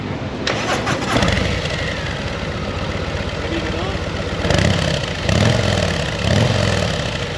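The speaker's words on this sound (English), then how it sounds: "that's the stock sound on this 2022 CVO." Stock exhaust of a 2022 Harley-Davidson CVO motorcycle on Main Street during Daytona Bike Week, a loud, rumbling engine with a few throttle revs swelling over busy street background noise.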